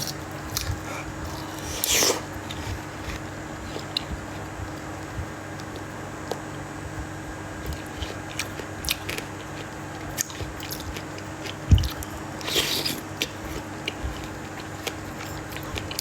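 Someone chews and eats food, with faint, sparse bites and soft crunching spread over a quiet background and no talking.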